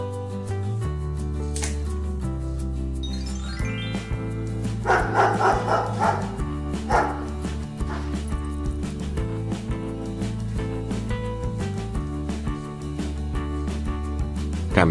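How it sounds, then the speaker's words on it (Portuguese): A dog barks a few times over steady background music, the barks short and mid-loud, clustered near the middle. "Cachorro."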